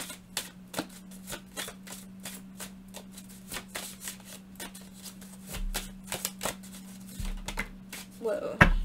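Tarot cards being shuffled for another draw: a steady run of soft, rapid papery riffles and flicks, close and fairly quiet, with a faint low hum underneath and a brief louder rustle at the end.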